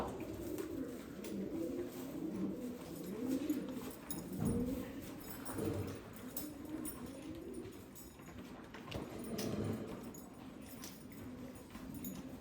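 Pigeons coo softly in repeated low, rolling calls, close by and steady over a faint background hum.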